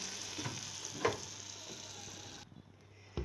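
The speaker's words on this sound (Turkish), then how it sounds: "Şimdi şerbetini dökeceğim" Cold syrup poured over hot rose-shaped Turkish pastries (gül tatlısı) gives a steady hissing sizzle with a few soft clinks, then the pour stops and the sizzle quiets.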